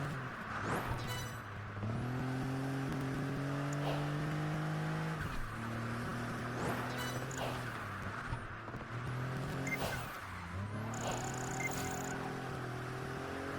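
RUF CTR Yellowbird race car from Project Gotham Racing 4 on Xbox 360, rough engine droning loud and close through repeated gear shifts, with rising revs, squealing tires and skids between climbs.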